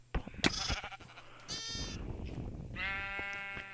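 Sheep in the Minecraft video game bleat twice, a short near cry followed by a longer wavering one, with sharp game clicks and thuds earlier on.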